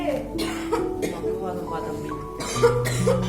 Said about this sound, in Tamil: இருமல் வேற தொலை பண்ணுது